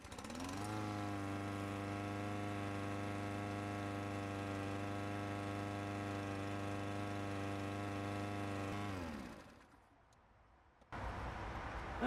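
Lawn mower engine idling steadily after fuel stabilizer is added, a constant close, even hum for about nine seconds that then cuts out, followed by brief quiet and a sudden burst of noise.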